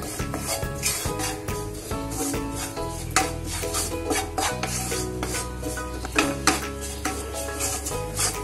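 Grated coconut and spices dry-roasted and stirred in a pan for Khandeshi patodi rassa, with continuous scraping and rasping of a spoon against the pan, fairly loud and close, with light clinks and no talking.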